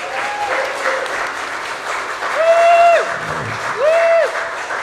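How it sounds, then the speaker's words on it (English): A Sunday congregation applauds its choir during a service, a sustained wash of clapping with faint tonal sounds running underneath. "Please give them a round of applause."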